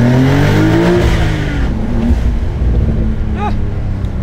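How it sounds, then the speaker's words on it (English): A 2023 Porsche 911 Carrera T (992) with manual gearbox revs up sharply through the exhaust, a loud deep roar that climbs, then settles into a rumbling idle with brief talk. "Let's try the exhaust."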